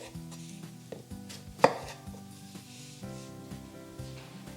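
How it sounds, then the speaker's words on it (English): A knife cuts through washed baby potatoes on a cutting board, halving them, with a string of soft thuds and one sharper, louder chop under faint background music, no talk. "and slice them in halves."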